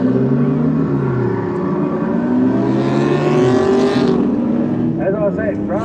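Cammed V6 dirt circuit race cars roar off the start in a loud, sustained engine drone that rises and shifts as they accelerate, with a rapid pitch sweep near the end and a voice commentating over it.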